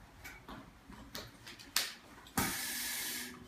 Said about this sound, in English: The last thing they do is they click in with their air regulators.